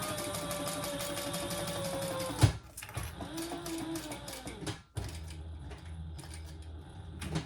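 A sewing machine top-stitches a leather waist pack in short runs, a rhythmic close mechanical whir with needle clatter that stops abruptly twice, with quieter handling sounds in between.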